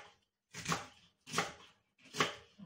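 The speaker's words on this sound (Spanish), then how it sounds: "Tengo los puerros limpios, así que lo troceo un poco." A knife chops cleaned leeks on a cutting board, three distinct crunchy cuts in a slow, even rhythm, close and quiet with silence between them.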